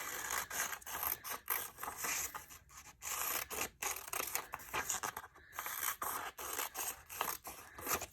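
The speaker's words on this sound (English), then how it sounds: "So first, we're going to cut out all our little pieces." Scissors cut out small paper pieces close up in quick, rhythmic snips and rustles, with no talking.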